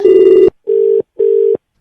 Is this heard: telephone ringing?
yes